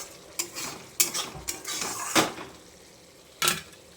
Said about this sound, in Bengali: আদা জিরা, তারপরে লঙ্কা, কাশ্মীরি লঙ্কার গুঁড়ো, হলুদ সব একসঙ্গে এই যে মশলাটা কষিয়ে নিচ্ছি